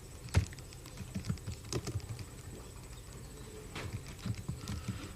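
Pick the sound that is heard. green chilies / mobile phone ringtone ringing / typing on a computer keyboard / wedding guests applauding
typing on a computer keyboard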